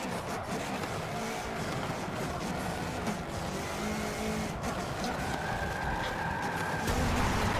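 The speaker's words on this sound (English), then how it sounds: "I accelerated too hard and then pressed on the handbrake because I'm trying to do a handbrake turn" A 2016 Subaru WRX rally car in Forza Motorsport 7 accelerating hard into a handbrake turn, its engine roaring continuously with tire noise, loud and close, the engine note rising toward the end.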